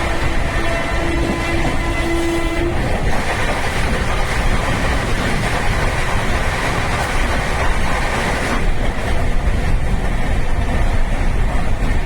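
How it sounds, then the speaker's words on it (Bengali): The Jan Shatabdi Express (12023, Howrah to Patna) pulls into a station platform, its loud continuous rumble and wheel clatter filling the scene, with a brief horn-like tone early on and a shift in the noise near the end. "আমাদের ট্রেন এসে পৌঁছালো আসানসোল স্টেশনের 2 নম্বর প্ল্যাটফর্মে।"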